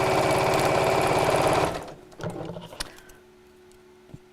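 Sewing machine stitching around the corner of a chair cushion, a fast steady motor-driven needle rhythm close by for about a second and a half, then stopping, followed by faint handling clicks and rustles.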